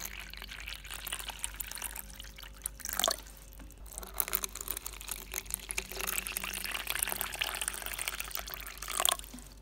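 Water is poured into a tarantula's water dish, a faint trickle and splash with small drips under a quiet room background.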